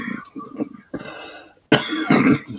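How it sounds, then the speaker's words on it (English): Several harsh coughs and throat-clearing bursts in quick succession, close and loud, the last fit the strongest. "I almost made it through that without coughing"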